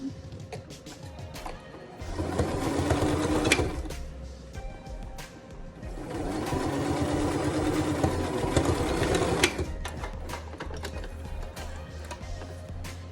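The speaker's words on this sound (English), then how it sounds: "be sure not to sew your elastic up into the edge when you sew it" A sewing machine stitches a fabric face mask with elastic ear loops, running in two loud, steady mechanical bursts separated by a brief pause.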